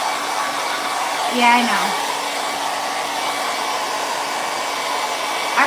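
A hair dryer blows steadily and loudly to dry a sanded craft piece, a constant close whir throughout, with a brief spoken remark near the start.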